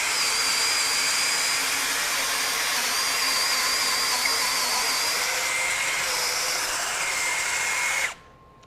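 Masterforce 20V brushless compact 1/2-inch hammer drill driving a 1-inch bit in speed 1, a loud steady whining motor run held for about eight seconds before cutting off abruptly.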